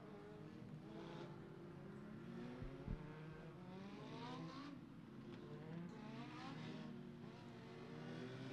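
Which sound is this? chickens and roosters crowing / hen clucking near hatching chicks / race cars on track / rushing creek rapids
race cars on track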